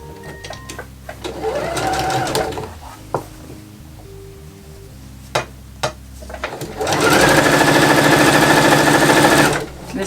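Sewing machine stitching a fold of slightly wrinkly vintage bias tape on woven fabric, running in two loud, steady whirring bursts close by with a quieter pause and a few clicks between them.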